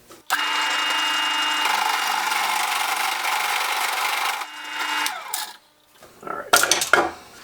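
A power drill with a 1.5 inch bit bores into wood for a bench vise mount, a steady loud whirring grind of about four seconds that winds down, followed by a few short knocks.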